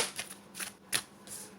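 Tarot cards being shuffled by hand, a few quick, close riffling bursts of papery flutter in a short burst with no talk.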